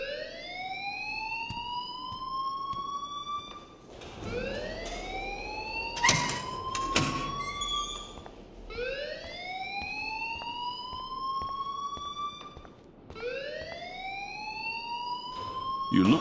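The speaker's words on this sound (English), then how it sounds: "please turn off that alarm since that's your job" Fire alarm blaring in the video game Life is Strange, a loud rising electronic wail repeating in long sweeps, with brief sharp clatters in between and faint talk underneath.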